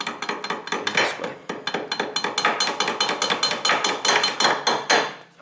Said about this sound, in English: next step is to start hammer this pin out in this direction